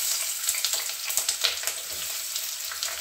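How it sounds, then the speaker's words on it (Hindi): Onions fry in hot mustard oil in a kadhai, giving a close, bright, continuous sizzle dotted with quick crackles and stirring ticks, with no talk. "अब हम इसमें प्याज डालकर फ्राई करेंगे इसको"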